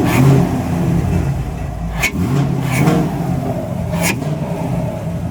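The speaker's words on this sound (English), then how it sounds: "So we've been playing with the throttle a little bit." Camaro 2SS V8 with a new cold air intake revving up and down, a loud, close engine roar rising in several throttle blips.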